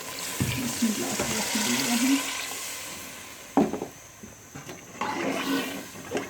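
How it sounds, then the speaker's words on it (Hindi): Water from a curd bowl poured in two bursts into a simmering pan of egg and potato curry gravy, splashing and sizzling near the mic with a short pause between pours. "मैं वही दही वाले बर्तन में 2 गिलास पानी डाल के इसमें शामिल कर रही हूँ।"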